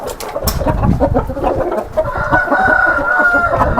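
Hens cluck busily up close while a rooster lets out a long crow partway through, with farmyard bustle around them.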